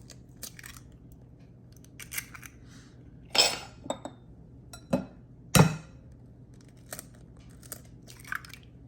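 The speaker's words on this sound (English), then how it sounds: "I'm gonna just crack my eggs and put them in this bowl" Eggs cracked into a bowl for stuffed mushrooms, with a few sharp close taps and cracks spaced apart over faint background, quiet and without talk.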